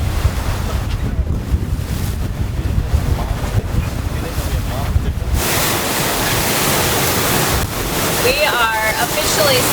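Ocean waves and strong wind around a Seawind 1370 catamaran under sail, a loud continuous rush of water and wind buffeting the microphone throughout, with the wash of the sea swelling and surging without a break.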